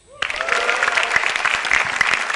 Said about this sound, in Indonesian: Yang jelas tepuk tangan buat komik-komik sebelum saya.